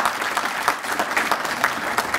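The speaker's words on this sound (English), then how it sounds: "Let's give Professor Gitari a round of applause" An audience claps steadily through a university professorial inauguration ceremony, a dense, loud round of applause with no voices over it.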